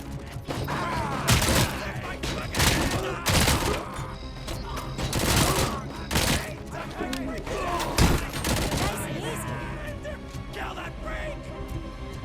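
Rapid SMG gunfire in the shooter game Robocop: Rogue City, loud bursts of shots repeating across the scene amid mechanical clanks, with someone talking over the action.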